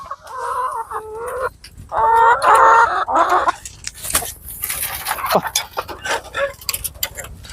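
Backyard chickens cluck and squawk near a poultry coop, with close, busy bursts of calling over a noisy outdoor background.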